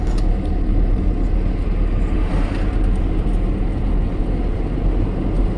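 A car driving at speed in fifth gear at around 60–65, a steady loud engine and road rumble running continuously without pause, no voices over it.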